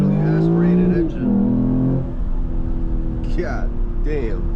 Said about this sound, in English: The only thing yelling in my ear right now is this fucking V6 naturally aspirated engine.